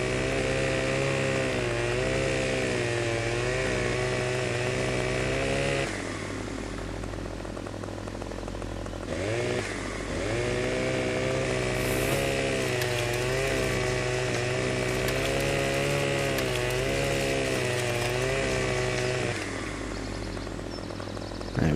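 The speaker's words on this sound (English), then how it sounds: "So chainsaw out, using a Husqvarna chainsaw this time." A Husqvarna chainsaw cutting trees in Farming Simulator 17 roars loud and steady, with its revving pitch rising and falling as it bites through wood in two long stretches and dipping briefly to a lower idle between them.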